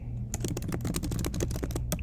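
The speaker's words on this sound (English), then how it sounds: "by clicking in the text box and typing it" Rapid typing on a computer keyboard, a dense stream of close key clicks over a low background hum, with no speech.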